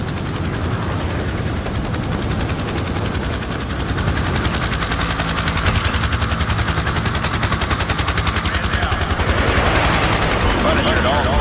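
Sustained automatic gunfire from the Call of Duty Modern Warfare 2 video game, a dense, loud rattle of rapid machine-gun bursts running throughout, mixed with a helicopter-like drone and game voices in the background.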